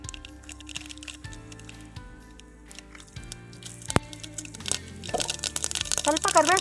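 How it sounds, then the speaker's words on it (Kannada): Mustard seeds splutter and pop in hot oil for tempering a Seeme Badanekai Majjige Huli curry, a burst of sharp crackles that builds toward the end over tonal background music. "ಸ್ವಲ್ಪ ಸಾಸಿವೆ ಹಾಕ್ತಾ ಇದ್ದೀನಿ ಒಗ್ಗರಣೆಗೆ"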